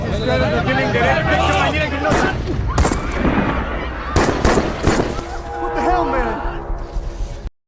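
Several sharp gunshots ring out in a scene where villagers are shot. The bursts come spread across the clip and are mixed with loud voices, crowd noise and honking sounds.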